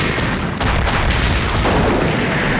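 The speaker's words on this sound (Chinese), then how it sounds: "轰隆一声" A loud, continuous rumbling boom fills the whole stretch, a dense explosion effect with a small dip near the start, from a Pili Budaixi puppet drama battle scene.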